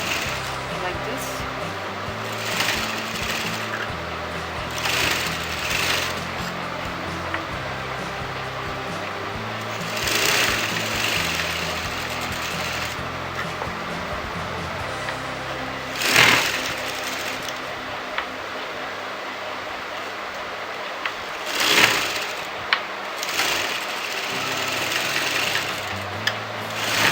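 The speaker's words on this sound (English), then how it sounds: "This is how you have to put a basting stitch." A sewing machine runs a basting stitch on a blouse with a low, continuous motor hum and intermittent rubbing and handling of fabric, while a person talks over it.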